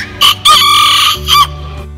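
A tiny Serama bantam rooster crows loudly and close by in several short, shrill bursts with a longer call in the middle, alone without talk.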